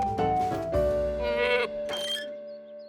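A cartoon goat bleats in a long wavering cry, loud and close, with a second shorter bleat after it against a quiet animated background.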